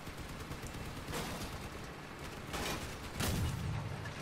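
Several heavy booming cannon shots ring out in the vehicle combat game Crossout, each a deep blast with a rumbling tail over a constant noisy background.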